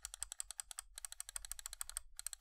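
Rapid clicks from an Ardor Phantom Pro gaming mouse, its switch springs giving a slightly odd, uneven snap; a close, quiet, irregular run of sharp taps with short pauses and no talk.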